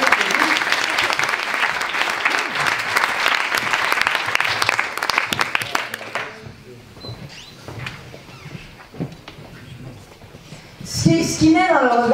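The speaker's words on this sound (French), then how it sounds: "on peut les applaudir une dernière fois" A youth conference audience breaks into dense, sustained applause that fills the room for about six seconds, then fades out as a speaker resumes talking.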